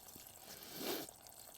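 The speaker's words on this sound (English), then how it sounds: "So opening the valve will allow the water to drain off." Water drains from the open waste valve of a Swift Voyager 485 motorhome at a service point, a soft steady hiss that swells briefly in the middle before settling back.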